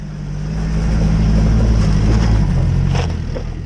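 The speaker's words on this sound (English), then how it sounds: "Zach's first up with his Hilux taking on this hill challenge" A Toyota Hilux 4x4 engine labors up a hill-climb slope, a loud, close, low rumbling growl that swells and holds steady before easing off, with no talking.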